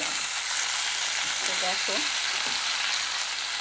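Green chilies fry with a loud, constant sizzle in a pan while a spoon stirs through them, and a voice briefly speaks over the cooking.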